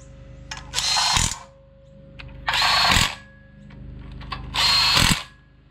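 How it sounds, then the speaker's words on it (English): A power drill runs in three separate bursts of a few seconds each, a loud whirring grind with pauses between, while enlarging bolt holes for a Ford C4 automatic transmission on a 351 Cleveland engine. "We were just going to bring a drill and just set the holes bigger"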